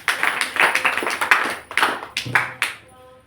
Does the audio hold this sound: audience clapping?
yes